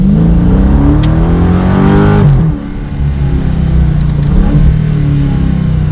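The 6.4 litre Hemi V8 of a 2015 Chrysler 300 SRT Core roars loudly under acceleration, rising in pitch for about two seconds, cutting off at a gear change, then pulling strongly again with a deep burbling exhaust note.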